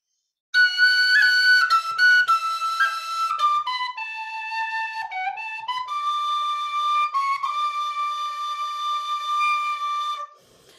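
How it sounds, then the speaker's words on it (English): A tin whistle plays a solo melody of clear, sustained and stepping notes with small ornaments, close and alone after a brief silence, ending abruptly. "I'm going to maybe start with a little bit of tin whistle music."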